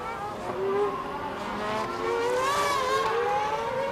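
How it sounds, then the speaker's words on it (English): Formula One car running on track during 2013 pre-season testing in Barcelona, its high-pitched engine note rising and sweeping steadily as it passes, loud and continuous with a faint voice underneath. "Force India driver Adrian Sutil looks comfortable in his new car, beating Button's time on the first lap back out"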